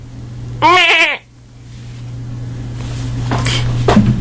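A person imitates a goat's bleat with a single wavering, nasal baa of about half a second, loud and close against a steady low hum and faint background noise.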